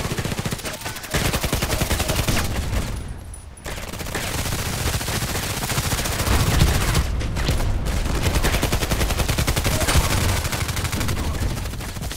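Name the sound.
gunfire in video game Contract Wars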